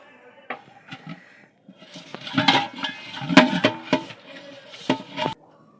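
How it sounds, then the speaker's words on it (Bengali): A cooking pot being coated inside with ghee before layering chicken biryani rice, giving close scraping and rubbing with several sharp metallic clinks of a utensil against the pot, no talking. "আমি ঘিটা ভালো করে হাঁড়িটাতে মাখিয়ে দিচ্ছি"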